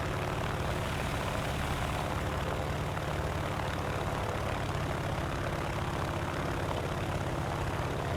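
Steady propeller aircraft engine droning in War Thunder, a plane type first built in 1934, a constant, unbroken engine roar heard up close and alone, with no talk.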